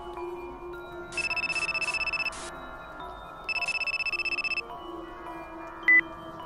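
A mobile phone ringtone sounds in a Minecraft horror trailer, with two bursts of rapidly pulsing electronic beeps separated by a pause, followed by a single short tone.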